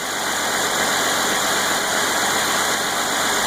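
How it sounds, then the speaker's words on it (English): A car engine runs steadily at a loud, close idle, a constant mechanical drone with an even tone and no voices, its computer-controlled revs dropping slightly. "You may be able to hear the revs going down a little bit."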